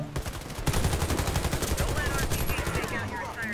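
Sustained machine-gun fire in the shooter WarFace clatters in fast, loud bursts, nearly continuous, with a brief pause near the start and game effects layered over it.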